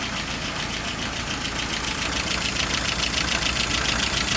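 A car engine idling with its RPM set a little high while fuel supply trouble is being checked, running steadily and close with a fast, even pulse and no talk over it.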